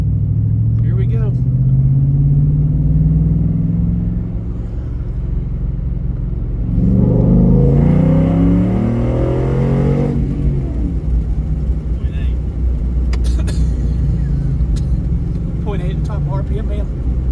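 A shop truck's engine running on nitrous roars loud and close, with a low steady rumble that climbs into a hard rising rev midway, then settles back to a throaty drone while people talk over it.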